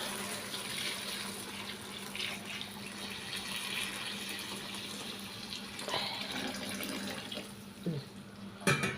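Water pouring steadily into a pot, a soft continuous splashing with a few clinks and bumps toward the end.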